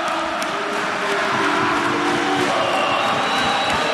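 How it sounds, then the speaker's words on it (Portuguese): Cruzeiro supporters in a volleyball arena at a Superliga men's match against Minas keep up a loud, continuous roar of cheering and chanting. "A torcida do Cruzeiro faz barulho, hein? Mais barulho que a torcida do Minas lá."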